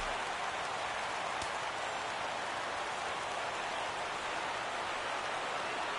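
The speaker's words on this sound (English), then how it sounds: "Well, it's really raining hard here tonight." Heavy rain falls steadily during a night baseball game in a video game, a dense constant hiss with one brief tap partway through and no voices.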